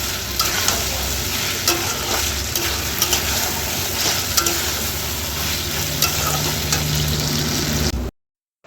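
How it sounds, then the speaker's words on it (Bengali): Spice paste for dhokar dalna sautéing in oil, a loud, dense sizzle close by with occasional spoon taps and stirring, which cuts off abruptly near the end. "মশলাটা আমি কষাতে থাকবো"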